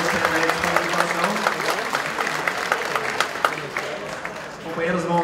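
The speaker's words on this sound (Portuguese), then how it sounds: "Vou pedir aí que a plenária, com uma salva de palmas, então, mais uma vez, bem forte para os companheiros" A plenary session audience claps together in sustained applause, a dense crackle of many hands that holds steady at fairly high loudness, with some voices mixed into the crowd noise.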